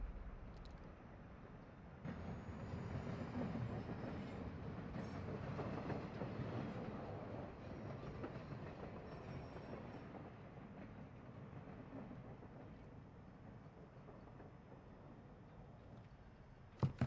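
A train rolls past in the Warzone 2 video game as a faint, steady rumble with rail clatter, building in after a couple of seconds and holding on without a break.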